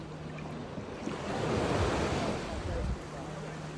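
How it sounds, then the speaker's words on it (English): Cold Atlantic ocean waves at Crystal Crescent Beach in Nova Scotia, a broad rushing wash of surf that swells and fades over a few seconds, mixed with wind buffeting the microphone. "there's not that much waves around"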